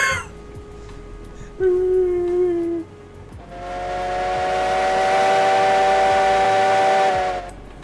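Steam whistle of an ET&WNC 2-8-0 steam locomotive in the train game Railroads Online, a short toot followed by a long, loud, steady blast that fades at the end.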